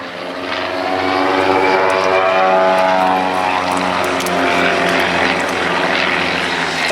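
Two propeller aircraft flying a pair display at Duxford Air Festival, one a Mustang, pulling up in line abreast before splitting; a loud, sustained, droning engine and prop roar that swells in and holds steady, close overhead.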